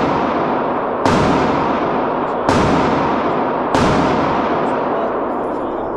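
Three loud, sharp gunshots from a gun fitted with a binary trigger at a gun range, spaced roughly a second apart, each with a long booming decay that blends into the next.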